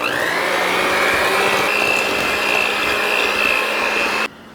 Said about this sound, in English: I'm just going to whip this together for about 2 to 3 minutes